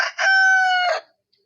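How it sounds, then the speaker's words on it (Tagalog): A single loud crow from a nearby Hatch Grey grizzle rooster on a breeder's farm, held steady for about a second and then cut off into silence. "Siyempre meron din tayong manok dito."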